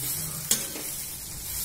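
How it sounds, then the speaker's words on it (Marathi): Roasted vermicelli stirred in hot oil in a pan, a soft continuous sizzle with one sharp scrape of the spoon, close and alone without talk. "आता ही आपण चांगली या तेलामध्ये मिक्स करून घेऊ"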